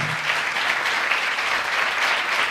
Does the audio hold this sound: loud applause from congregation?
yes